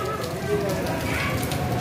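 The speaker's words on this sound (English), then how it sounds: "And it is raining now." Steady rain falls during a parikrama walk around Vrindavan and Govardhan, a dense, continuous hiss of drops drumming on surfaces close by, with no pauses.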